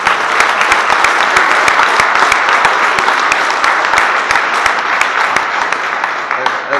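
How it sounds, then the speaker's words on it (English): A loud round of applause from the crowd at a boxing press conference, dense and steady, with sharp individual claps standing out throughout. "you've been a round of applause for Phil Sheffield"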